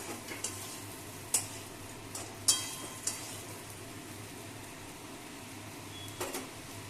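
Fish sizzles in a frying pan with a soft, steady crackle, broken by a few sharp clicks and taps from a utensil against the pan.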